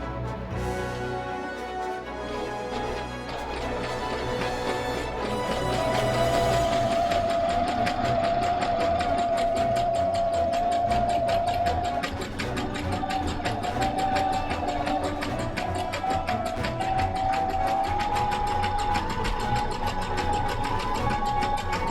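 A sewing machine stitches a Chongyun cosplay costume, running as a continuous mechanical whir that starts softly and then holds steady and fairly loud for most of the stretch.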